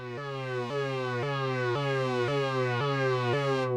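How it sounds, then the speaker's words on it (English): A Logic ES2 software synth holds a buzzy, bright tone pulsed by a sawtooth LFO, repeating in a regular rhythm of about seven sharp restarts over a few seconds, loud and alone with no talk. "How about we actually change it to sawtooth wave?"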